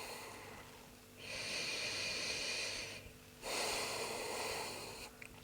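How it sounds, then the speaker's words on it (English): A person breathes deeply in and out through the nose during a yoga session, with two long, close, airy breaths separated by short quiet gaps. "Start to take deeper breaths in and out through the nose"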